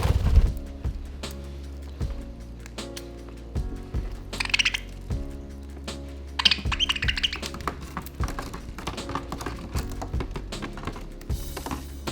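Budgies in an aviary chirp in short, bright bursts, with a couple of clearer flurries partway through, over a steady low background hum.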